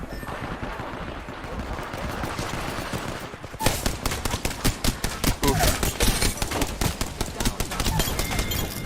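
Rapid, loud automatic gunfire from Apex Legends gameplay, starting after a few seconds of murky background noise and continuing as dense repeated bursts of shots with faint voices underneath.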